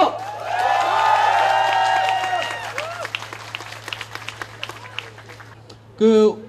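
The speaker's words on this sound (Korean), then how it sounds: "다시 한번 큰 박수!" A crowd at a guerrilla concert greets an arriving guest with applause and cheering. A voice rings out over the clapping at first, then scattered claps patter on and fade before a brief loud burst at the end.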